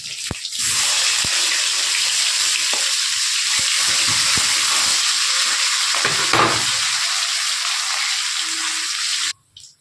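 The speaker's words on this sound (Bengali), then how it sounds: "এইভাবে আমি সব মাছগুলোই ভেজে নেব।" Fish frying in hot oil gives a loud, steady sizzle that runs almost the whole time, with a few sharp pops and spatters, then cuts off abruptly near the end.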